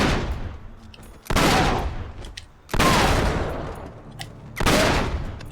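Three sharp, loud gunshot bursts from Uncharted 3: Drake's Deception, evenly spaced a little over a second apart, each followed by a decaying echo against a low rumbling backdrop.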